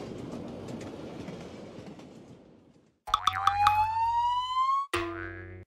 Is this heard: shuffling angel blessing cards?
no